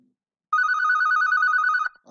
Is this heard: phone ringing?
yes